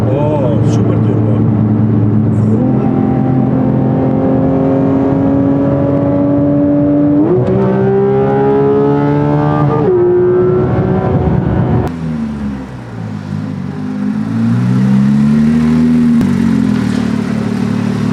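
A twin-turbo McLaren 720S sits close by with its engine revving, loud rising and falling tones stepping up through sustained pulls, easing off, then climbing again, with voices talking under the noise.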